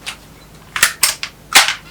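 An HK-style airsoft rifle's action slammed closed, giving several sharp metallic clacks in quick succession, close and loud, with a short pause between the later snaps.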